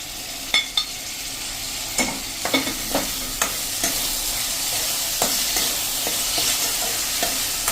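Chopped tomatoes frying in a pan with bottle gourd, a steady sizzle broken by repeated scraping and tapping strokes of a spoon as the mix is stirred.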